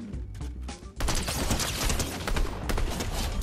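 Video game gunfire crackles in dense, rapid bursts, loud and close, with a shotgun mentioned among the weapons; the firing turns into a sustained fusillade after a brief lull near the start.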